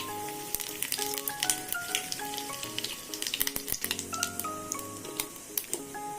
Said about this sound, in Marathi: राई जिऱ्याची फोडणी देणार आहे